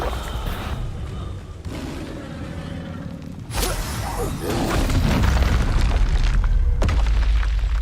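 Confringo blasting spell explosions from the Hogwarts Legacy video game, played on PC: a sharp broadband blast at about 3.5 seconds, then a sustained loud roar of bursts and rumble, with another crack near the end.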